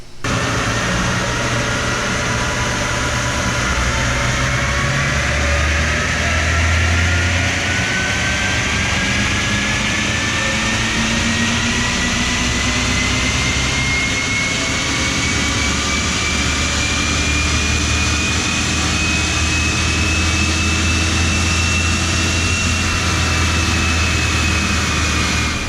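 An Audi 3.0 TFSI engine pulls hard in fourth gear on a dyno, up to about 6,400 rpm. A loud, steady roar carries a whine that climbs slowly in pitch across the run, with no voices.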